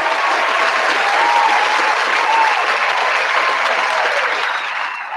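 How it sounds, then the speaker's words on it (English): A studio audience applauds at a morning show, dense and loud clapping that stays steady before easing off slightly at the end, with no talking over it. "What a rouse of applause."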